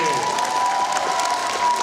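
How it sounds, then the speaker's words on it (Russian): Audience applause for children from an auxiliary school in Kherson, a dense steady clatter of many hands at close range throughout, with crowd noise and a tonal hum mixed in. "Еще раз аплодисменты."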